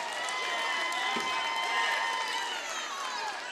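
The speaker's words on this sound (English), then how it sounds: "Minneola Clark crowd getting into this game" Crowd noise at a boys' high school basketball game between Kiowa County and Minneola, with the home Minneola fans cheering as a sustained, fairly distant roar under play-by-play commentary.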